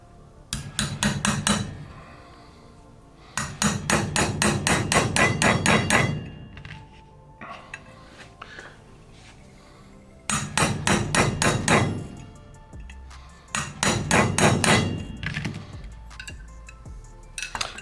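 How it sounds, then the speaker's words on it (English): Bursts of rapid, sharp metallic taps from a small hammer striking a roll pin starter punch while building an AR-15 rifle, several quick runs separated by pauses, close and loud. "I'll use my small hammer here."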